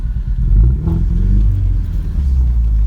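A two-wheel-drive Ford Ranger pickup descending an off-road slope gives a loud, close, low engine rumble that revs slightly, with some clatter from the truck.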